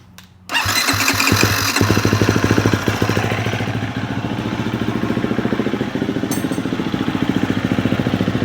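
A Beta 300RR two-stroke dirt bike with a weighted flywheel fires up and settles into a loud, close, steady rapid-popping idle that continues to the end.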